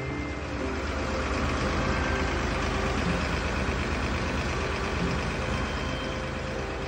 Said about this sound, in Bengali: তো মেন যে ইঞ্জিনে এই নৌকোটা আপনার পাওয়ার্ড, সেটাই এই পেছনটায় আছে